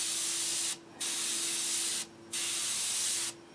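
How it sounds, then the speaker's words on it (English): Close, steady hiss of an airbrush spraying paint in three long bursts, each cut off by a short pause, with a faint compressor hum running underneath throughout. "this thing will spray a lot of paint"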